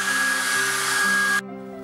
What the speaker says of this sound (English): take a blow dryer and blow dry it so that it dries really fast